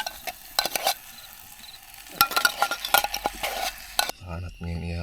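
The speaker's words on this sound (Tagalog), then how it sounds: "ihalo yung mga patatas natin" Potatoes stirred in a pot at a campsite, with a spoon scraping and clinking against the metal in uneven strokes over a soft sizzle, then a brief different sound at the end.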